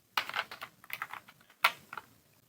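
Computer keyboard being typed on: a quick burst of close, crisp key clicks in an irregular rhythm, a short pause, then a few more taps, quiet and with no voice.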